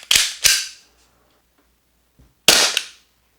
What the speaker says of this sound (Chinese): 先做一个最普通的射击，